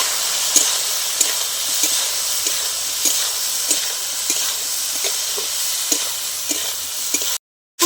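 Jujubes frying in a pan with salt and turmeric are stirred steadily, a constant close sizzle broken by regular scraping strokes about every half second, with no voices.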